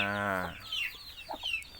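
A Thai fighting rooster, offspring of a Kula Dam bird, gives one loud close crow that breaks off after half a second, followed by a few soft clucks and scratchy rustles.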